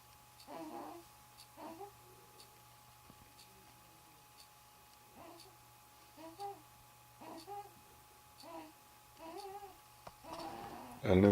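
A two-week-old baby boy makes soft babbling and cooing sounds in several short bursts separated by quiet pauses, fairly close and faint, with a brief louder fussy burst at the end.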